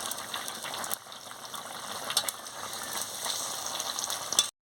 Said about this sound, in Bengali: বন্ধুরা দেখুন কি সুন্দর ফুটছে, যত ফুটছে তত রং বেরিয়ে যাচ্ছে